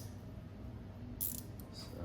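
A brief mechanical ratchet clicking while a bolt is tightened during an audio upgrade installation on a 2022 BMW K1600 motorcycle, a short burst of pawl clicks over quiet background.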